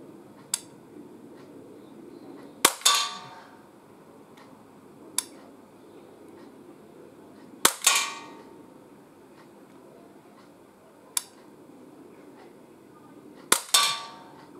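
Umarex Glock 17 Gen 5 CO2 air pistol firing pellets at a 15-metre target: sharp, close cracks spaced several seconds apart, some followed by a brief metallic ring, with quiet pauses between shots.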